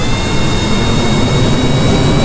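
A fighter jet's engine in the Kerbal Space Program video game roars as it starts, a loud, steady, broadband rush with a thin high whine, with no talk.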